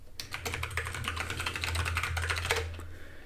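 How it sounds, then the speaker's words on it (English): Typing on a Moonlander split keyboard fitted with swapped-out mechanical switches, a steady close patter of keystrokes running unbroken throughout, with no voices. "And the keyboard is a, what the hell is it called? A Moonlander, I think."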